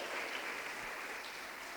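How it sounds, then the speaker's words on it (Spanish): A church congregation claps hands in worship, a faint, dense, continuous patter of many hands heard from a distance. "Dele fuerte las palmas al Señor"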